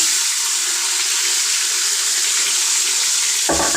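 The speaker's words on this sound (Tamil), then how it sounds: "நம்ம ஊற வச்ச மட்டன் மசாலாவை அப்படியே சேர்த்துறணும்" Loud, steady sizzle of hot oil in a pan, with marinated mutton masala for an Andhra-style mutton curry going in to be sautéed, close and continuous with a sharper surge of frying at the end.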